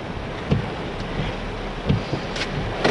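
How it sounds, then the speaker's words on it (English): Gusting wind and rain from a band of Hurricane Matthew roar steadily close to the microphone, with a few louder buffeting thumps rising above the continuous wash. "This is just one of the bands of rain."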